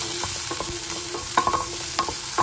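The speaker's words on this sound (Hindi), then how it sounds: "पैन मेरा गर्म हो गया है, थोड़े से डाल दिए मैंने सरसों के तेल में जीरा। इसके अंदर हम डालेंगे प्याज" Onions sautéing in hot mustard oil with cumin seeds, a dense crackling sizzle close up, punctuated by scattered clicks and light spatula knocks.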